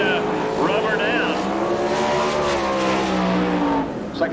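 Sprint race cars run laps on a dirt racetrack at an All Star Circuit of Champions event in Woodstock, Georgia, with a continuous loud engine drone that rises and falls in pitch.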